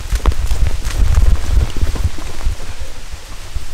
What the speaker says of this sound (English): it started to rain so much